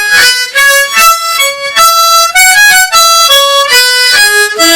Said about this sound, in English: you're going to play something called a ghost octave